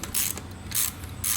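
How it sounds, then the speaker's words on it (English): A socket ratchet tightening a carburetor on a Yamaha Virago motorcycle, giving three quick close bursts of rasping clicks in a steady back-and-forth rhythm. "we're gonna go ahead and tighten her down as much as we can with the socket"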